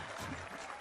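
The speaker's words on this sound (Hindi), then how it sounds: "तालियां बजाओ।" Brief burst of crowd clapping in a Hindi-dubbed South Indian film scene, a dense wash of hands filling the short moment with slight voice murmur beneath.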